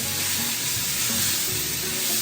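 Chopped onion frying with a pinch of salt in a pot, a steady close sizzle and hiss with faint stirring scrapes underneath, no talking.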